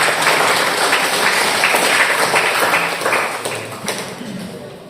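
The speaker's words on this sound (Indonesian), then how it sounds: "Oke, kasih aplaus." Training participants at a village cooperative board session in West Lampung clap together, a loud, dense round of applause from a room of people that gradually fades toward the end.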